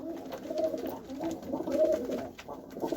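Pigeons in a loft coo softly and repeatedly nearby, low throaty calls overlapping in a gentle rolling rhythm.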